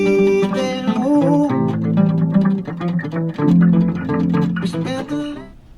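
An acoustic guitar riff, played with a heavy pick as a brisk run of plucked notes over ringing chords, close and loud with no voice, ending in a quick fade.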